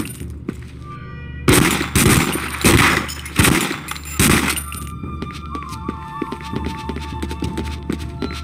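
Gunfire erupts in The Punisher video game at Pier 74, several loud bursts of shots in quick succession mixed with crashing and breaking impacts, followed by quieter electronic tones as the fighting eases.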